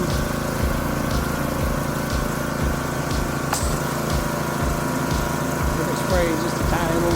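A home pressure washer runs loud and steady as it soft-washes the outside of a house, its pump pulsing in a regular rhythm under a constant spraying hiss, close and without letup.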